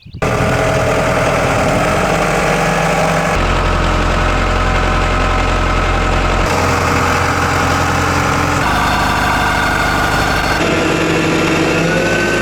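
An engine runs steadily after a fuel filter replacement, a loud continuous idle with a low rumble and faint knocking texture, shifting slightly in tone a few times, with no talk over it.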